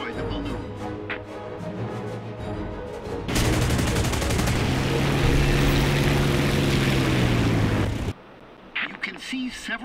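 Aircraft machine guns fire in the video game War Thunder, a sustained loud burst of rapid gunfire lasting several seconds over a droning propeller plane engine, which continues alone before and after.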